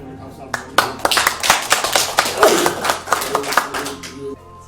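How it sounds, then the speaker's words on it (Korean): Audience applause at a Korean church reading gathering in Las Vegas, a steady burst of many hands clapping for several seconds, fairly close and loud, with a voice speaking over it. "다시 한번 박수 한번"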